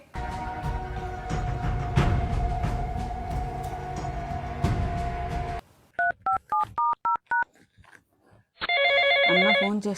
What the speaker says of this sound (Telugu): అన్న ఫోన్ చేస్తున్నాడు